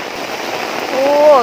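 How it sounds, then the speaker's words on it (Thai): Heavy rain hisses steadily outdoors during riverbank fishing on the Songkhram River, a dense, close wash of noise, with a voice rising over it near the end. "ลุยฝนไปน้ำกันจ้า"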